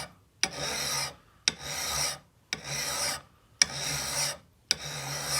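A hand file rasps across an axe blade in five even, deliberate strokes, each a loud scraping pass with a short pause between, close up and without speech.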